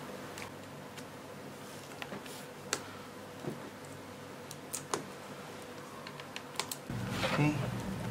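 Laptop keys on a Lenovo Y510p keyboard are pressed back into place, giving scattered close clicks and snaps over a steady background hum, with a louder rustle near the end.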